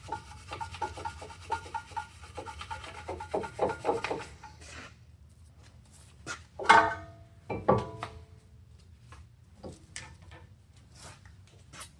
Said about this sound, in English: Brush, clean off the caliper a little bit.